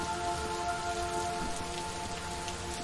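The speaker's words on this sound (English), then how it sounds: "It's raining." Rain falling in the video game Superliminal, a steady dense patter of drops on surfaces that holds at an even level throughout, with no voices.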